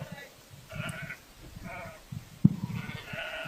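Sheep bleat repeatedly in a mixed flock of black and white sheep answering a shepherd's call, several calls overlapping at moderate distance with a sharp louder bleat partway through.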